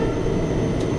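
A passenger express train from Vasco da Gama, Goa, to Tirupati is hauled by a WDP4 diesel locomotive, with a steady, loud, broadband rumble that carries unbroken throughout, heard close with no voices.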